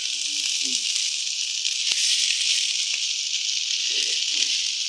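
Food sizzles steadily and close up in a hot pan, a bright constant crackle, with a few faint murmurs of voices under it.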